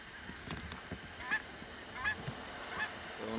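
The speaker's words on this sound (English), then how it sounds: "One lone goose up here." A single goose passing overhead near a lake gives three spaced, fairly faint honks against steady outdoor background noise.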